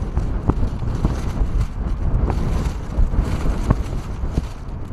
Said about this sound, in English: Get out of the direct wind for the time being.